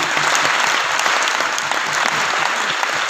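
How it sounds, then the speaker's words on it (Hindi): Loud, sustained applause from a gathered audience at a success-formula talk fills the whole stretch, dense, even clapping with no pause. "जोरदार तालियां होना चाहिए"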